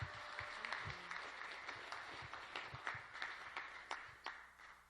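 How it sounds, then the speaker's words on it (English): Audience applause at a live event in Venice, steady dense clapping at moderate level with individual sharper claps standing out, continuing throughout without talk. "give her a warm round of applause"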